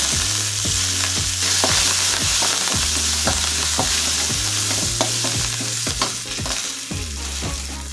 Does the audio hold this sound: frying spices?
yes